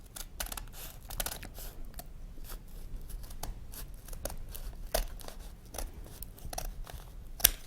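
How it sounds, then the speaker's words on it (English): Scissors snipping through folded paper in many quick, crisp cuts at an uneven pace, close by, with no voices. "Now I take my scissors and I'm going to make just one straight cut"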